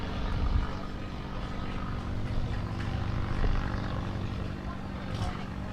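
An aircraft passes over a baseball field during a Newport Gulls vs Mystic Schooners game, a continuous low engine roar filling the background at moderate loudness.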